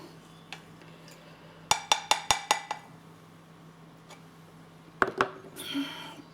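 A spoon stirs milk kefir in a glass jar, giving a quick run of sharp clinks against the glass, a pause, then a second shorter burst of clinks.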